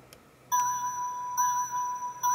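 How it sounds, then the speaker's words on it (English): Soloed bell in a song mix, bright sustained tones struck three times, each ringing out with a delay tail, loud and isolated with no other instruments. "which I can solo the bell for you."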